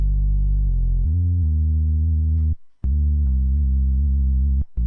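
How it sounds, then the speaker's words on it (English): A thick, sustained sub-heavy bass line from a Cherry Audio MG1 Plus software synthesizer, run through a compressor limiter, plays loud and close in a few held notes with short gaps between them. "I am using a Serialistic MG1 Plus synthesizer by Cherry Audio"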